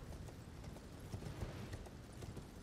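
Horse hooves clip-clop at a steady, even pace in a video game, a continuous trotting rhythm close up, with no talking.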